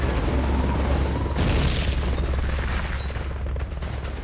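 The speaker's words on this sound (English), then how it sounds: "strafing run" Heavy bombing and strafing-run explosions in the video game Metal Gear Solid Peace Walker, a dense continuous rumble of booms with a fresh surge of blasts midway, loud and sustained.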